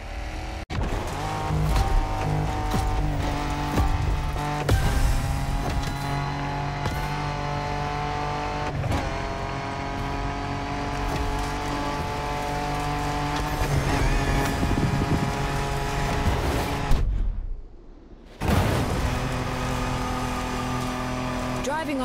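A car races off-road in the open-world driving game The Crew Motorfest, its engine revving and droning steadily with occasional tire squeal throughout, under a talking voice, with one brief dropout near the end.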